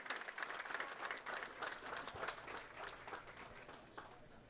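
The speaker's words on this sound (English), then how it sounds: "A round of applause for Phil and the scholarships provided by the Wisconsin State USBC Association" Audience applause fills a bowling hall at a high school singles bowling championship in Wisconsin, a steady, dense wash of many hands clapping that lasts throughout and fades slightly near the end.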